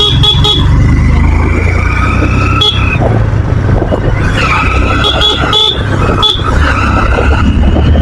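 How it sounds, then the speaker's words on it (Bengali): A vehicle horn honking from behind on a narrow road near a railway crossing, several short toots over loud, constant motorbike engine and road noise. "পিছন থেকে হরেন মারছে"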